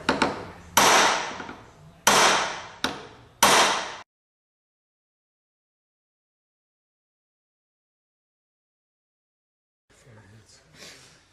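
Four heavy metallic hammer blows ring out at a steady pace as a shaft is hammered into a John Deere 300 series snow blower gearbox casing, each decaying quickly, followed by a long silence and some faint shuffling.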